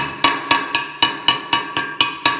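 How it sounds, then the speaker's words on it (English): Hammer tapping around the rim of a paint can lid to seal it while mixing car paint, giving nine sharp, evenly spaced metallic taps at close range with no talking. "I will take a hammer"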